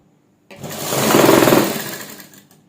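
An electric sewing machine stitches a kurta seam in a single continuous run of about two seconds, a fast whirring chatter that swells and then fades to a stop, close up, with no talking.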